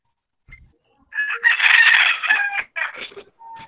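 A rooster crows once, loud and close: a long, strained call followed by a few shorter broken notes, with a faint thump just before and quiet in between.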